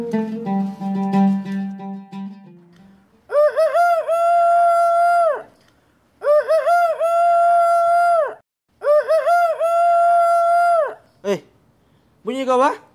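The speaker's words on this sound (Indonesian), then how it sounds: "aku boleh mau juga kena ada bunyi ayam" A voice speaks at first, then a rooster crows loudly and clearly three times in a row, each call long and drawn out, followed by a few shorter calls.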